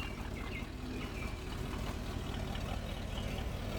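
A 1964 Ford Galaxie 500 convertible engine idles steadily with a low, even rumble, continuous throughout with no revving, with a slight exhaust or manifold leak.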